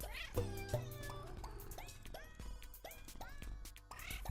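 Cartoonish cat meow sound effects in a Balatro-style card game, a quick string of short tonal meows over busy game music and chiming effects.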